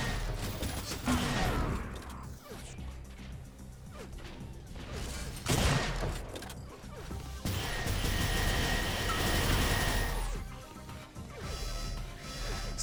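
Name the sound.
gunfire in Unreal Tournament video game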